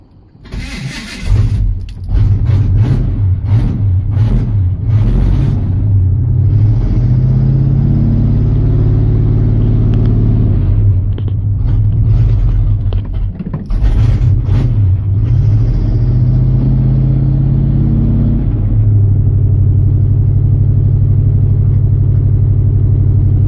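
A 1982 Chevy Custom Deluxe pickup cranks over and catches on a cold start, then settles into a loud, steady, rumbling idle that dips and stumbles briefly midway before evening out, with no talking over it.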